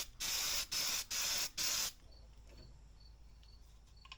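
Four short, loud bursts from a spray can coating a fabricated Jeep part, each hiss lasting under half a second with brief gaps between, followed by a faint, quiet room background.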